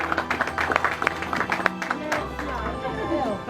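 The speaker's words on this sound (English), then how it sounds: "Give another round of applause" A round of applause at an engagement party, scattered claps from a small crowd mixed with chatter, while a voice speaks over the clapping close by.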